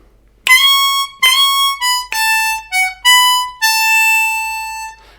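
Blues harmonica playing a short lick, a string of about seven bright, separate notes with bends, played alone and close.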